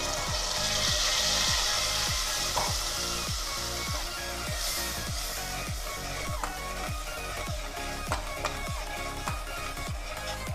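Boiled onion paste sizzles steadily in a pan over low heat for a pistachio chicken korma, with a regular scraping stir thumping every second or so.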